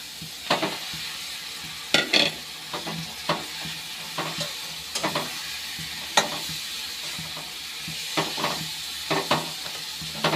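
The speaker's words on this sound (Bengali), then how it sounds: "এখন দিয়ে দিচ্ছি আলু সেদ্ধটা ম্যাশ করে রেখেছি" Mashed boiled potatoes stirred into fried spice paste in hot oil for a paneer-potato curry, a steady sizzle punctuated by repeated sharp scraping knocks of a spatula against the pan.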